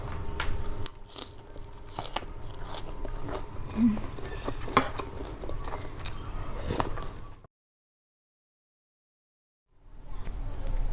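Crunchy bites and chewing of Lao-style papaya salad with fresh shrimp and pork sausage, close, repeated crackling munches over several seconds, then a stretch of total silence before noise resumes.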